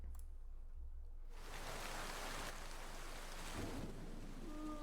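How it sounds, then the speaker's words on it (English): Steady rain hisses throughout, with a deep rumble of thunder rolling in and swelling partway through; no voices, just continuous storm noise. "Thunder and rain is pretty nice, right?"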